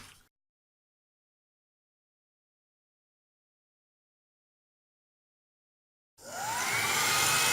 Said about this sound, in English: you need to move the heat gun. Do not keep it fixed just in one place